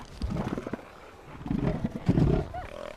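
A huge beach master bull seal on South Georgia gives deep, guttural territorial roars in two pulsing bursts, close and throaty, with a brief pause between them.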